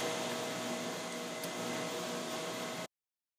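Vacuum pumps of an X-ray photoelectron spectrometer running in a lab, a steady broadband whir with a faint constant hum, unbroken and even in level until it cuts off abruptly near the end.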